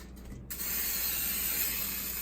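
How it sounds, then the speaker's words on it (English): Cooking spray hisses steadily into a baking pan being readied for brownies, one continuous close spray lasting a couple of seconds. "Spray well the corners."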